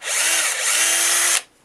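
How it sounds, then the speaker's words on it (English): A drill bores a shallow hole into light cedar wood for a fishing lure, a loud steady whir for about 1.4 seconds before it stops abruptly. "I just drill a real shallow hole"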